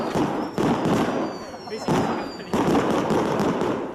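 Repeated fireworks burst in the night sky over a winter purification festival in Kikonai, with loud crackling booms at about 0.5, 1.9 and 2.5 seconds and a dense, sustained rumble between them.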